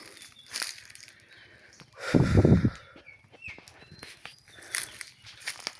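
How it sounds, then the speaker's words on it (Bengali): Footsteps crunch on dry, dead fallen leaves outdoors, with one loud close crackling step near the middle and lighter rustles and snaps around it, alone without talk. "ঝরা এবং মরা পাতা শব্দগুলো"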